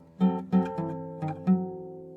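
A classical guitar plays five short left-hand pizzicato notes by itself, each ringing briefly with a soft attack, at an uneven, unhurried pace.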